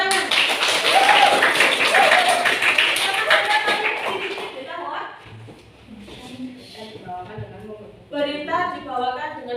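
A classroom group claps together: dense, loud hand clapping for several seconds that fades out, followed by people talking.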